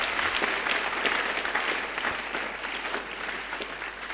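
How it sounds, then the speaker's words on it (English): Sustained applause from a large crowd, steady and even throughout, with no break in the clapping. "we appreciate them with another resounding applause"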